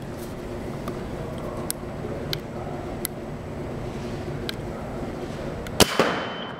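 An Empire Axe paintball marker fires a string of sharp, separate pops over a chronograph at roughly half-second to one-second intervals, set against a steady background hiss, and a louder double crack comes near the end.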